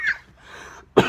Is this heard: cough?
yes